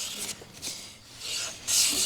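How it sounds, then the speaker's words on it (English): A hand plane passes over wood on a bench hook, biting with rasping strokes and then skipping where machine snipe left low spots, close and fairly loud in separate bursts. "You can hear the plane engages and then skips where there's some machine snipes."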